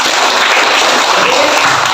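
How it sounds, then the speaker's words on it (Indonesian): Dense, steady applause from a classroom of students, many hands clapping at once, loud and close throughout with no voices standing out. "Iya, betul, tepuk tangan."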